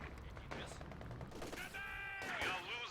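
Rapid machine gun fire crackles through a Company of Heroes 2 battle, dense and continuous over a constant bed of game noise, with shifting tonal effects near the end.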